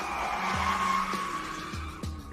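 Car brakes locking up in a skid, a sustained high tire screech with a few lower squeal bursts, loud and close with no talking.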